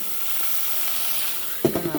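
An egg fries in a skillet, giving a steady broad sizzle, then a louder burst of crackling hiss as about a tablespoon of water hits the hot pan near the end. No one talks.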